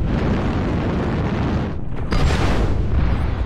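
Artillery strike explosions in the video game DV-6M 1K Hibernal Rift, a dense rumbling roar of heavy blasts with a sharper burst midway, loud and continuous without talk.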